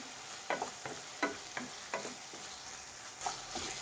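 Turmeric powder being stirred into softened tomatoes in a pan, a spoon scraping in about eight soft, evenly spaced strokes over a low steady sizzle.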